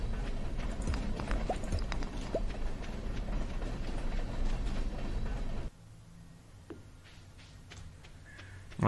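A train rolls past in the farming game Stardew Valley, a dense, steady rattling clatter that lasts about six seconds and then cuts off abruptly to a quiet background.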